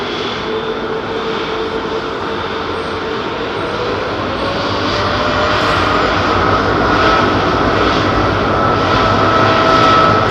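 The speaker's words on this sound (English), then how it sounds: "Here's a 777 freighter now." A Boeing 777 freighter departing London Heathrow Airport gives a loud, sustained jet engine roar that swells steadily over about ten seconds, with no talk over it.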